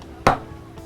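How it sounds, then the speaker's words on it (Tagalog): A knife cuts palawan, a taro-like root crop grown in mud in Sorsogon, into small pieces: one sharp, close chop followed by a much fainter second cut, with no talking. "Hinihiwa ng maliliit ang palawan."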